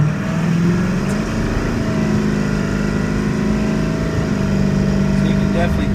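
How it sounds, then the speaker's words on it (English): A 7.3 Powerstroke diesel truck with an aftermarket air intake drives steadily, its engine drone carrying a faint high turbo whistle and intake suction throughout, with steady road and cabin noise. "the whistle is a little bit louder. Turbo whistle. You can hear it sucking air."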